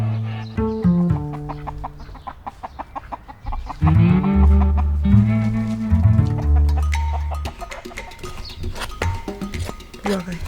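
Chickens cluck and squawk close by on a shared rural homestead, with overlapping busy calls and bursts of louder cackling throughout, while people talk intermittently in the background.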